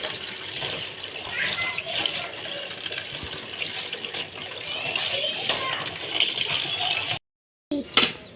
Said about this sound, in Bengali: এই কাঁচামরিচ ধোয়া লাগবে।